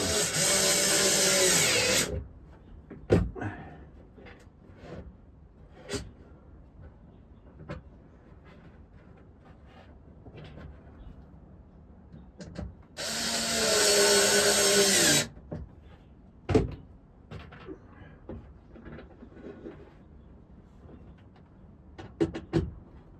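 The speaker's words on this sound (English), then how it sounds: "This little drill, little Ryobi drill, is quite good" A small Ryobi cordless drill whirs loudly in two bursts of about two seconds each, separated by quiet stretches filled with scattered clicks and knocks.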